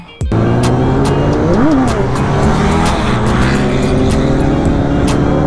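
A superbike's engine roars loud and close as it pulls a wheelie, opening with a sharp burst, then a sustained high revving drone with a brief pitch rise and fall.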